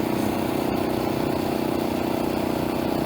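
A Honda GX 120cc single-cylinder engine on a motorized bike pulls up a mountain hill, a loud, close, steady throbbing drone that holds an even pitch without a break.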